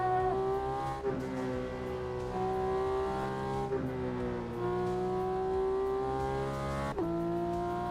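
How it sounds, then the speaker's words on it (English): Porsche 911 992 GT3 RS engine in Assetto Corsa, lapping the Nordschleife: a steady high-revving flat-six drone with rising pitch through the gears and sharp dips at each upshift, loud and continuous throughout. "No, this is the Porsche 911 992, the GT3 RS"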